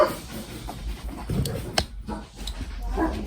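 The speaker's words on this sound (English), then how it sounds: "That's why my dogs keep barking" Dogs sound off in a home, with whimpering, yips and short barks scattered through the stretch, moderately close and mixed with household noise; no one speaks.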